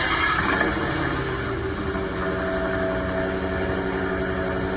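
Dodge Challenger exhaust idling nearby, a deep steady rumble that swells slightly at the start, dips, then settles into an even throaty drone.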